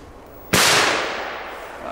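A Bermuda triangle firework goes off outdoors with a single sharp, loud bang, and the blast's rumble then fades slowly.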